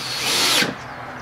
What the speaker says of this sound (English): Driving your screws.